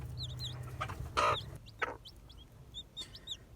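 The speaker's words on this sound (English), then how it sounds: "So here are the chicks" A hen clucks among newly hatched chicks, with soft low clucks and bursts mixed with thin, high peeping chirps repeating throughout, close and fairly quiet.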